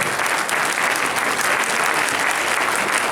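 A church congregation at a Haitian pastors' gathering applauds steadily, a dense, even wash of many hands clapping that fills the room without pause.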